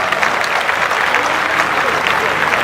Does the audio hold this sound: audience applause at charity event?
yes